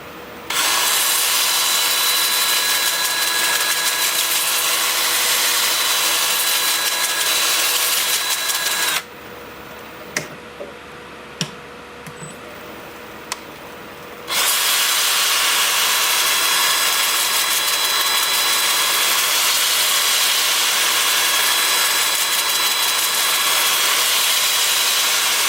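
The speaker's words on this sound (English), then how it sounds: "I've got the lathe spinning at about 330 RPM, and I'm going to alternate between reverse and forward" Sandpaper works a butternut wood bowl spinning on a lathe at about 330 RPM, a steady loud abrasive hiss over the motor hum that breaks off for several seconds midway before resuming.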